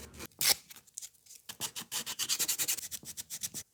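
Rapid, rhythmic rasping strokes of sandpaper rubbing against a carved wooden spoon, close up, starting with a few scattered scrapes and then settling into a quick steady back-and-forth.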